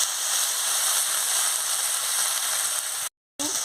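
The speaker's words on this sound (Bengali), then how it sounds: "টমেটো কুচি দিয়ে দিচ্ছি, দিয়ে ভালো করে আমি ভেজে নিচ্ছি।" Chopped tomatoes frying in a pan with chilli paste, giving a steady, loud broadband sizzle that runs unbroken for about three seconds before a brief cut.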